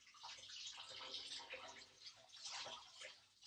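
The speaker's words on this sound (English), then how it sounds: "I'm just squeezing out some of the excess water." Soaked wool skeins are squeezed out over a sink, giving a soft, close splashing and trickle of running water in uneven bursts, with no one talking.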